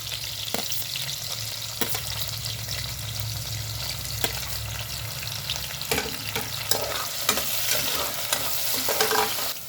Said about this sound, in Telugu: పచ్చిమిరపకాయలు వేసుకుందాము